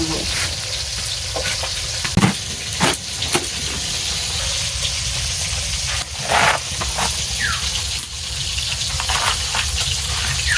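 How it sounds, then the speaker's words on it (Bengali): Pieces of katla fish frying in a pan, a steady close sizzle and crackle running throughout with a few brief louder spits and clinks, no talking. "এটা মাছটা ভাজা হতে লাগুক"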